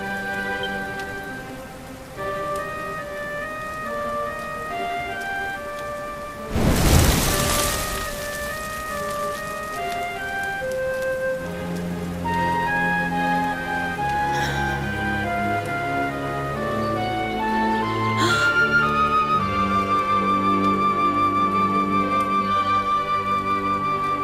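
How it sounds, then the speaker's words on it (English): Steady rain patters across a surface alongside sustained musical tones in the video game Dragon Quest XI, with a brief loud burst of noise partway through; no one speaks. "Looks like the rain's dying down"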